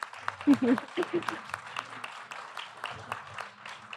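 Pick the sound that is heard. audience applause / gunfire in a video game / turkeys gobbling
audience applause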